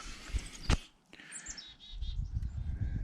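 Small birds chirp near a backyard bird feeder, giving faint high tweets and short calls, with a few knocks and low rumbling outdoor noise around them.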